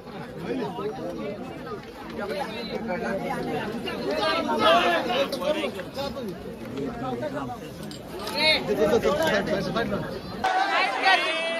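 A dense crowd chatters and murmurs continuously around a temple during the 2025 Ekvira Aai palkhi procession, with overlapping nearby voices rising and falling throughout.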